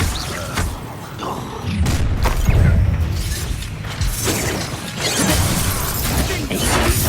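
Spell effects from the Hogwarts Legacy video game, including Glacius and Expelliarmus, burst out as a run of loud booms, thuds and crashing impacts over a dense, steady game soundscape.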